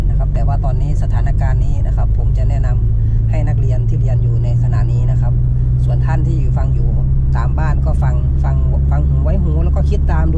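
A car rumbles along a main road during a driving lesson, its engine a steady low drone heard from inside the cabin while an instructor talks over it throughout.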